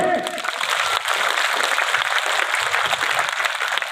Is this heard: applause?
yes